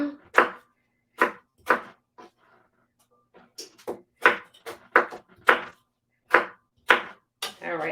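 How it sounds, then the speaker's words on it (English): A knife dices food on a cutting board in a home holiday kitchen, giving crisp, separate chops close up in an uneven rhythm of about a dozen strikes with short pauses, with no talking. "All right, so we've got that diced up."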